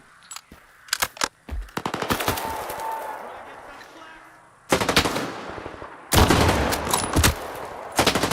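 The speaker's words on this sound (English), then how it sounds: "that guy is hitting me with his little SMG or whatever it is" SMG fire in the shooter game STALKER 2 rattles in sharp rapid bursts, with loud strings of shots broken by short quiet gaps and a few single cracks.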